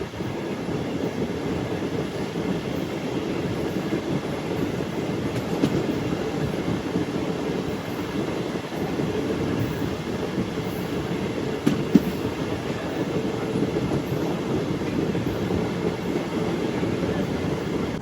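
A MEMU passenger train runs between Bhimavaram and Nidadavolu, heard from on board as a loud, unbroken rumbling roar with faint rhythmic clickety-clack and a brief metallic squeal near the end.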